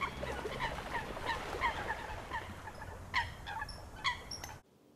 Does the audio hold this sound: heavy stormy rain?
no